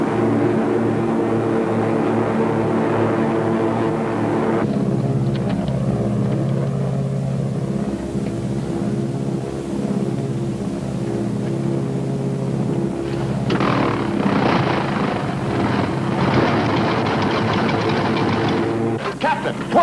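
A multi-engine aircraft drones in flight at altitude over Austria, with one engine failing. The steady, loud, continuous hum shifts tone partway through.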